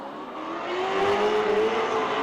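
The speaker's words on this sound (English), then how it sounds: "Leatherborough lets that LS scream out the back" An LS V8-powered BMW drift car at Lake Erie Speedway screams at high revs during a pro-am drift competition, a sustained rising engine wail heard from a moderate distance under a steady roar, with no voices.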